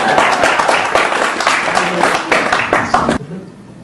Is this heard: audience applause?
yes